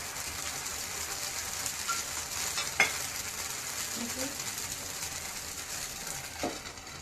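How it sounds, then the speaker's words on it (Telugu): Coconut dosa batter poured onto a clay pan, giving a steady soft sizzle under low background noise with a couple of faint clinks, close by and without talk. "ఇది కొబ్బరి దోశ పిండి ఉంది, వేసుకొని చూద్దాము ఎట్లా టేస్ట్ అయింది."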